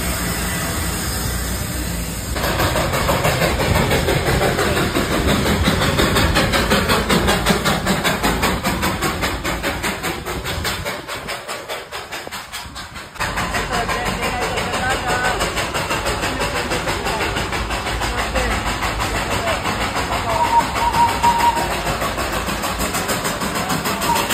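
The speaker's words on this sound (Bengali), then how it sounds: "এই তো ট্রেন আইলো, ট্রেন" A loud, continuous rumble of an arriving train close by, steady and droning, with a brief dip partway through before the roar resumes.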